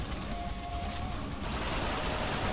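Rapid, dense gunfire from enemy shotgunners in the Transformers: Fall of Cybertron video game, a continuous loud barrage of overlapping blasts and battle noise with no pauses.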